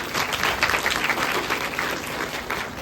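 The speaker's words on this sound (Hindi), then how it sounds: "तो एक बार सात्संग सभी बच्चों के लिए तालियां हो जाए जोर से।" A congregation at a Nirankari New Year satsang claps loudly and steadily for the children, a dense sustained burst of applause filling the hall without pause.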